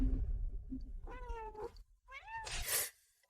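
A scruffy, moth-eaten cat meows twice in close succession, each cry a clear rising-falling yowl, the second one ending in a harsher, strained note, heard alone against a quiet low background.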